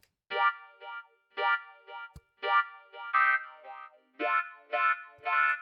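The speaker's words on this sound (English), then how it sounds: "get like a Rhodes type of feeling, or some really dirty electric key sounds" Bright, bell-like Rhodes-style electric piano chords from a software instrument are struck in short, evenly spaced stabs, each ringing briefly before the next, with no talking.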